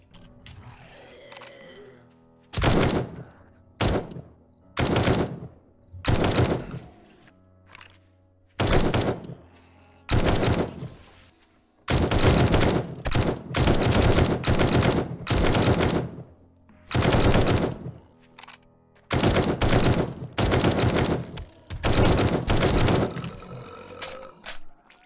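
Machine gun fire in the game 7 Days to Die (Alpha 20), from a Tactical Assault Rifle: loud, close automatic bursts, some short and clipped, others long and sustained, separated by brief gaps with mechanical clicks.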